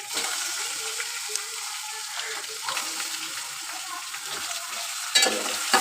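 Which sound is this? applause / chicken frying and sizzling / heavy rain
chicken frying and sizzling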